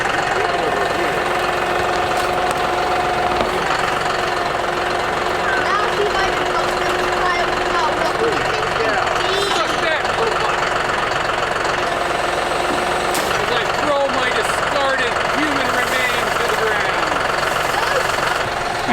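A tractor engine runs steadily under load as the front loader pulls while land is cleared on a ranch, with a continuous knocking diesel drone and people talking over it throughout.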